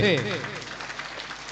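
Clapping from an audience at a religious gathering after a large donation is announced, a brief burst of crowd applause that follows a voice at the start.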